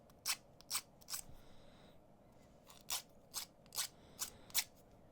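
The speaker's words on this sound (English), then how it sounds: "if you snip it off, that will be a little bit sharp as well." Wire cutters snipping beading wire on a triple-strand bracelet of blue lace agate, aquamarine and crystals, giving about eight sharp, close clicks spaced unevenly with short pauses between them, over a quiet background.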